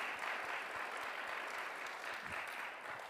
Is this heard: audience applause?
yes